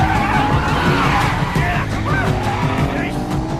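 A car revs and accelerates hard away, engine roaring close with a brief tire squeal, in a tense chase scene; some voices are mixed in under the engine.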